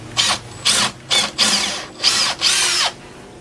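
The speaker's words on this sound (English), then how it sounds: "just drill in until you hit that piece of tape" A power drill bores into roof timber to set a cyclone storm rod, five loud close bursts of whining drilling separated by short pauses, with no talk.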